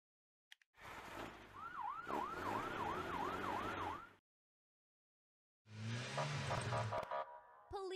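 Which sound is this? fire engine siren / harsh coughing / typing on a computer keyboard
fire engine siren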